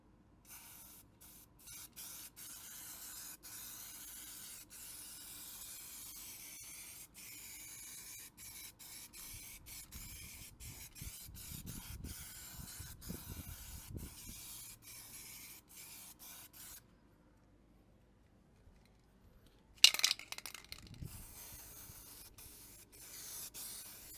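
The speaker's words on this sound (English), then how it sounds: "I'm using the TranStar 2-in-1 primer. So this is real good for this. Let me just spray it on" A spray gun lays TranStar 2-in-1 primer onto a 2000 Chevy Silverado during a respray, giving a steady hiss broken by short pauses and a brief louder burst near the end, with no talking.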